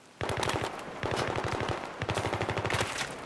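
Rapid automatic gunfire in a shooting video game, loud close bursts of fast repeated shots with short breaks between strings, no talk over them.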